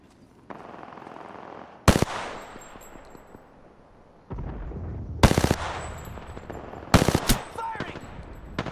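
Automatic weapon fire in the battle royale video game Apex Legends: several short, loud bursts separated by quieter stretches, with rapid rattling shots ringing over ambient game noise.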